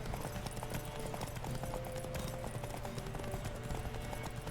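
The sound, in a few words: horse galloping, from video game The Witcher 3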